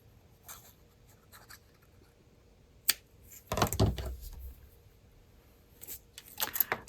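Scissors cut string shorter for a homemade tea tag. A brief, crisp snip and a short cluster of cutting sounds come through close by against a quiet room.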